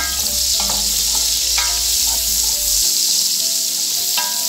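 Onion drops into a pan of frying bacon, setting off a loud, steady sizzle with scattered clicks and scrapes from stirring, close up and with no voices over it.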